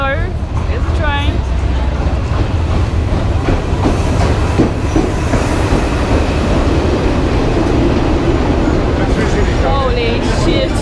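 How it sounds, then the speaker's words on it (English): A crowded commuter train pulls into a station with loud, continuous rumble, clatter and high metallic wheel squeals, while nearby voices talk over the din. "Here's the train."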